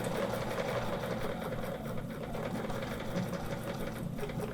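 Close and steady, a sewing machine stitches during ruler work quilting, its fast, even mechanical whir and rapid needle clatter running without a break.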